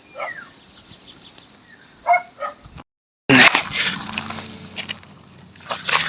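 Several dogs bark at a distance in short bursts as a horse passes, then a louder, closer stretch of barking over rumbling engine-like noise.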